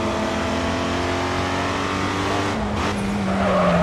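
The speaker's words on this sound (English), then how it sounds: "That's a big drift." A race car drifting in GRID 2, with a sustained engine whine and a long tire squeal that rises toward the end, loud and close with no voices.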